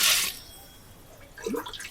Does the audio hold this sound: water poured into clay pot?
yes